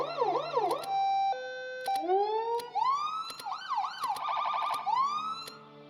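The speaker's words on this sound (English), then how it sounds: "you can engage a rumbler of sorts" Emergency truck siren cycling through wail, yelp and hi-lo tones in the Stormworks game, loud and close, switching patterns every second or so with brief horn-like blasts and a low rumbler tone underneath.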